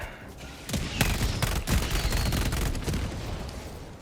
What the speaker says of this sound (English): Rocket sentry took it out.